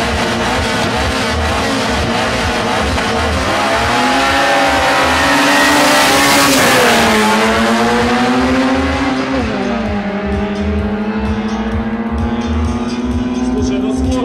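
Drag racing cars at a strip in Almaty, Kazakhstan, roar as they accelerate hard, engine pitch climbing steadily through gear changes and staying loud throughout the clip, with crowd voices faintly mixed beneath.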